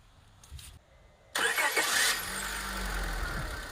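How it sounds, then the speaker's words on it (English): A 2001-2005 Honda Civic engine starts after a starter replacement: a brief cranking whir, then a sudden catch into a loud, steady idle that settles close by, with no talking. "all we have to do is hook up the battery and start the engine."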